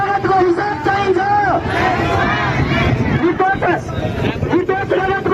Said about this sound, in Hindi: काठमांडू में भी पाकिस्तान के खिलाफ विरोध प्रदर्शन हो रहा है, लोग सड़कों पर उतरे हैं।